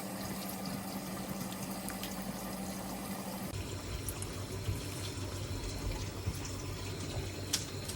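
Tap water runs while Scotch bonnet peppers are rinsed in a kitchen during okra soup preparation, a steady close splashing stream that shifts tone partway through as the peppers are moved under it.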